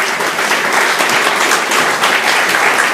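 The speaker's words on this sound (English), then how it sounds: "Please give him a round of applause" A crowd at a State of the Territory address breaks into loud, dense applause, a close continuous patter of many hands throughout.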